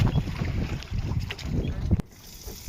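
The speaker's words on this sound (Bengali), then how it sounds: "আর হাওয়া চলতেছে মেলা স্পিডি" Strong wind blowing across the Indira Sagar Dam reservoir, a loud gusty rush buffeting the microphone close up, easing off near the end.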